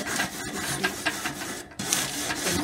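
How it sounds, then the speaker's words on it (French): A metal wire brush scrubs a still-hot barbecue grill grate, giving rapid raspy back-and-forth scraping strokes, close and continuous with a short pause partway through. "Pendant que la grille est encore chaude, donc j'ai cette brosse en métal."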